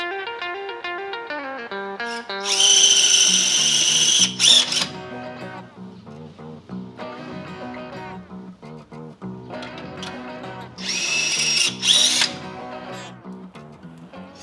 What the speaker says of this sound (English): as I was drilling into it, I noticed it was soft like aluminum